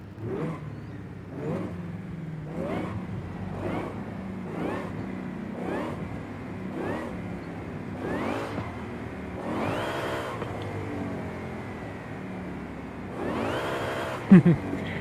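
A car engine revs repeatedly in rising bursts in the video game Forza Horizon 5, about a dozen sweeps with shifting pitch, steady and close, with a sharper climb near the end.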